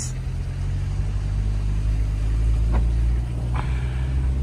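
Car engine laboring in a low, steady drone while climbing a steep, dangerous monsoon ghat road toward Lohagad Fort, heard from inside the vehicle, with a couple of brief faint knocks.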